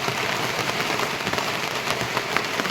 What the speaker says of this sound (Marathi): आपला पाऊस चालू व्हायला लागला आहे